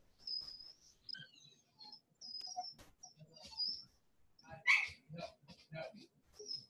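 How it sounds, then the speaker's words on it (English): Dogs bark in short scattered bursts at a distance, mixed with bird chirps and intermittent quiet talk, the loudest bark near the middle. "I'm just getting really distracted by the dogs"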